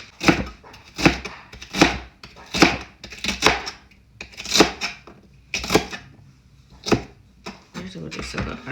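A knife chops okra on a cutting board in about a dozen evenly spaced, crisp thuds, close and clear, with soft speech in the background.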